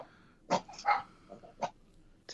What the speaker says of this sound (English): Attack dog.